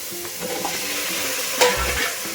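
Mutton leg pieces with turmeric are stirred in a hot pot, giving close, steady sizzling frying with scraping stir strokes and an occasional louder clank.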